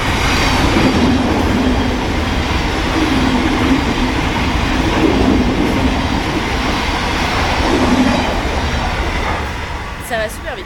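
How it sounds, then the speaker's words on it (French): A London Underground train passes through a tube station, a loud, steady rumble and rush of wheels on rails filling the whole stretch before easing slightly at the end, with a brief high squeal near the close. "ça passe super vite, on dirait des TGV genre."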